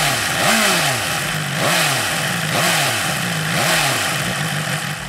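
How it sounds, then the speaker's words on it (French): A BMW S 1000 R with an inline four-cylinder Euro 5 engine runs close up, its exhaust note rising and falling in repeated throttle blips over a steady loud engine drone. "parlons du moteur de cette BMW S 1000R"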